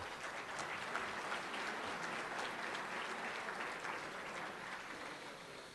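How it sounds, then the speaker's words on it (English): Luncheon audience applauding steadily for several seconds, a dense, even wash of clapping from a crowded room that tapers slightly at the end. "Let's give them a round of applause."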